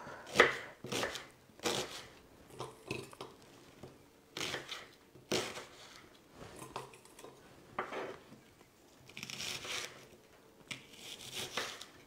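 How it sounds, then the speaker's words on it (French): Knife chopping onions smaller on a board in a home kitchen, a series of sharp, close taps coming in irregular bursts with short pauses and faint clatter of utensils between them. "je vais peut-être les recouper un petit peu, mes oignons, parce qu'ils sont un peu gros"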